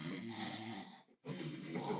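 A person imitating snoring with a rough, nasal inhaling rasp, one long drawn-out snore, a brief silence, then the snore resumes, close and fairly quiet with no other talk.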